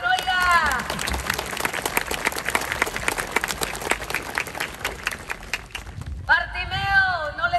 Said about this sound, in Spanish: Aplausos a los que se lo regalaron, oiga.